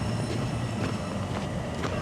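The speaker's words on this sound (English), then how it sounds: "Yeah, we got dual trains here." A train rumbles through a Toronto station, a loud steady roll of wheels on rail with faint periodic clacks and a thin high squeal running underneath.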